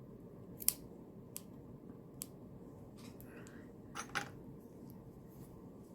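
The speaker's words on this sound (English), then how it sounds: "I'm just gonna snip the ones in the middle here" Scissors snip crocheted yarn strands on a small scarecrow craft, a few sparse, faint metallic clicks spread over a quiet, low background hum.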